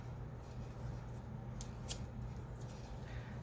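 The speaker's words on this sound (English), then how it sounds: "I'm going to tear the ends" Paper ends being torn by hand for a junk mail journal: a few faint, brief ripping strokes over a low steady background hum, close and quiet, with no talking.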